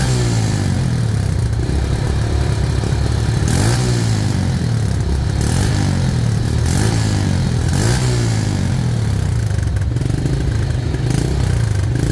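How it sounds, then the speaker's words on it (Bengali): Close up, the running engine of a 2023–24 TVS Metro Plus motorcycle holds a continuous loud throb, rising and falling in several short revs. "রানিং অবস্থায় গাড়িটির সাউন্ড শুনুন"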